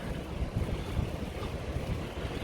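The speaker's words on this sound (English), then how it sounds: "And I always like to see these Klong boats coming by." A long-tail boat motor churns steadily on a Bangkok canal, with dense wash and wind noise and no voices.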